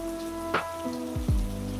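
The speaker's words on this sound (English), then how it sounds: "Rain." Rain patters steadily on a surface, with a few sharper sound effects cutting through the soft, continuous hiss.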